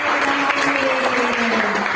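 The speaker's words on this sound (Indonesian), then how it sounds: "kasih tepuk tangannya kalau sudah sepakat" Classmates clapping together in a school classroom after agreeing on class rules, a steady wash of applause with a faint tonal voice or hum beneath it.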